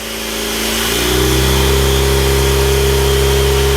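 A DeLorean's EcoBoost engine climbs from a lower idle into a higher, steady revving drone around 2,000 RPM that holds loud and close after about a second.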